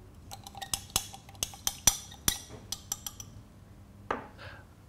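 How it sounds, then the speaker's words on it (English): Vegetable oil mixture stirred in a glass beaker, heard as a quick series of sharp clinks and taps of the stirrer against the glass, close and fairly quiet, with a softer scrape near the end. "I'm going to stir the mixture into a nice smooth consistency."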